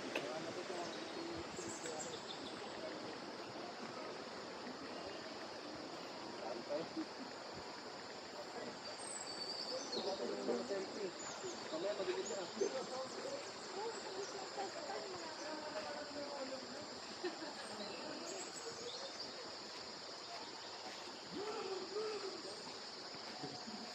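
Stream water flowing, a faint, steady broadband rush heard from some distance throughout, with soft voices occasionally audible underneath.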